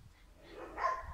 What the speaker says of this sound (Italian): Ecco, adesso abbaiano.